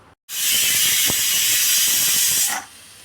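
A pressure cooker cooking greens on a kitchen stove lets out one loud, steady hiss of steam through its whistle. The hiss starts abruptly, holds for about two seconds, then cuts off, with no talk.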